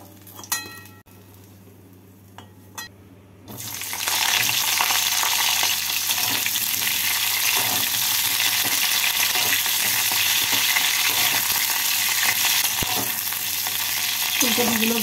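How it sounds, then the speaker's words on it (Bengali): Cauliflower pieces dropped into hot oil in a home kitchen pan, a loud, steady sizzle that bursts in after a few quiet clinks and continues unbroken to the end. "ফুলকপি ভেজে নেব।"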